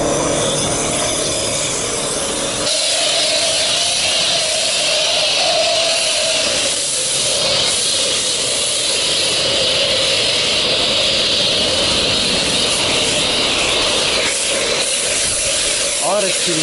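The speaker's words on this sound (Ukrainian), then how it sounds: "Начнемо, дивіться, як я мою машину." Steady, loud hissing spray of water against a car at a car wash, continuous throughout with a dense rushing wash and slight shifts in tone.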